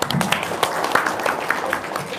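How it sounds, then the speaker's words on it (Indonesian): A crowd at an Indonesian religious talk show applauds with scattered, uneven clapping that fills the whole moment, a few voices mixed in. "tepuk tangan dulu dong"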